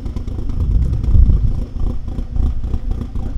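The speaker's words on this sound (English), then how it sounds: "You can obviously hear the cams there, a slightly lumpy idle." A car engine in a workshop idles lumpily up close, its uneven rhythmic pulsing marked by the cams, with a loping, slightly irregular low chug.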